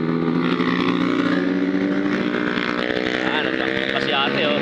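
A Kawasaki motorcycle rides past among other bikes at a hillside roadside spot, its engine a loud, steady, close roar throughout with a dense mechanical drone.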